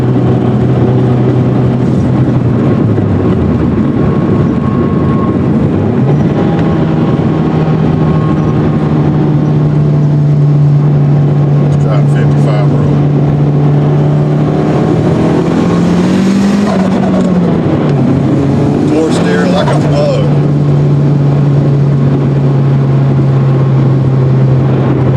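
A turbocharged Scion tC pulls hard through the gears, its engine droning loud and steady with pitch rising under boost, dipping at a shift midway, then climbing again, all close up.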